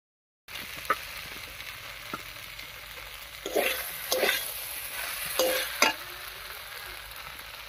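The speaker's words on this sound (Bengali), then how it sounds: "এবার একটুখানি মশলা বাটা জল দিয়ে কষিয়ে নিচ্ছি সবকিছু ভালোভাবে।" Potatoes, spring onions and eggplant are stir-fried with spices in a pan, a steady sizzle broken by several sharp scraping stirs and louder bursts as the mixture is turned.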